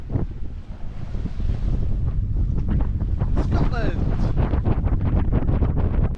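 Strong wind of about 20 knots buffets a sailing boat at sea, with waves rushing and slapping against the hull under roaring microphone wind noise, loud and close throughout.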